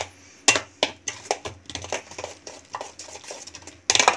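Potato and egg vada mixture being stirred in a bowl, with a spoon knocking and scraping against the bowl in an irregular rhythm of close, clear clinks and scrapes, louder taps near the start and end.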